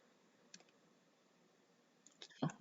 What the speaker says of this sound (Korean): 오늘은 더블 클릭 한번 해보겠습니다